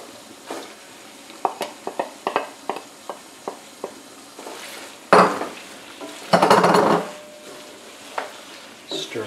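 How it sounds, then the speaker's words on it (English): Snapping turtle meat sears in a pot, with sparse clinks of a utensil against metal followed by louder bursts of sizzling and stirring, close and fairly quiet overall. "once you start to hear it sizzle, it's time to go ahead and add your onion"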